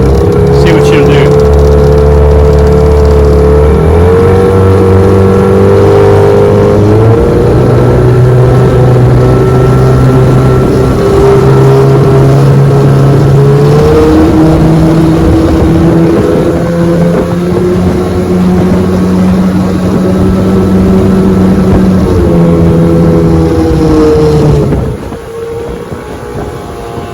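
A 1996 Johnson 15 HP outboard motor drives a boat across Toledo Bend Lake, its steady, loud drone shifting pitch as the throttle changes, with wind buffeting the microphone and a voice speaking over it.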